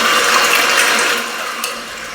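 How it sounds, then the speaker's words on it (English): A hand mixer running as speed is gradually raised, a steady whirring, mechanical drone that holds close and loud, easing off slightly partway through. "we're going to take our hand mixer and mix it slowly increasing the speed"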